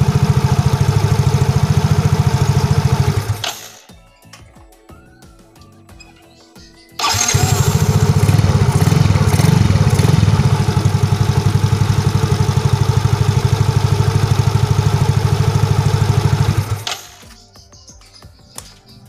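A Yamaha Mio GT scooter, fitted with new carbon brushes in its starter motor, is started twice: each time it cranks briefly and then runs at a loud, steady idle before being shut off.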